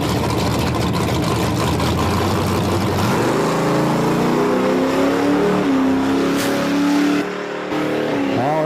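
A Chevy Nova drag car makes a solo bye run. Its engine roars loud and continuous, with the pitch climbing steadily as it accelerates through the gears, then holding high before a brief dip. It is heard up close and dominant, without voices.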